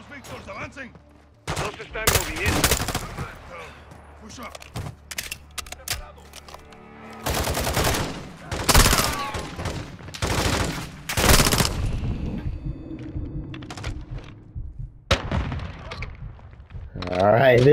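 Gunfire in the Call of Duty: Modern Warfare II campaign from a P90, an M4 and a grenade launcher, with sharp single shots and dense loud bursts separated by quieter stretches, while someone talks between volleys.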